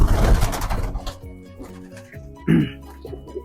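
German post pigeons coo in an aviary where the birds are kept in a natural setting; low, soft coos come through amid background noise and music, with a brief louder burst partway through.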